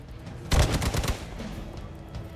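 A quick volley of gunshots rings out in Marvel's Midnight Suns, several close, sharp cracks bunched within half a second before fading into a low background hum.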